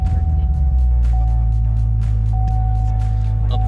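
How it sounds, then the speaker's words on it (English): Corvette C7 Z06 engine starting up, a loud deep idle rumble settling in close by, with a steady tone and faint background sounds. "I don't think I'm ever gonna get used to that startup sound."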